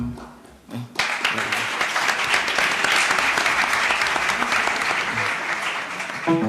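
After a short spoken moment, a seminar audience bursts into applause following a lecture on IFRS 16 leases, a thick, even wash of clapping that holds steady for several seconds before tapering at the end.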